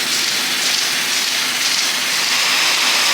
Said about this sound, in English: I still gotta wash these milkers off. They're a bit dirty. I just want to show you guys the wash water going through.